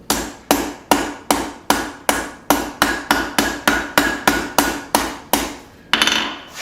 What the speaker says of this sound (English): Now I'm gonna use the anvil face